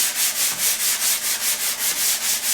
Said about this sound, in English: I'm just going to sand with 220 on a block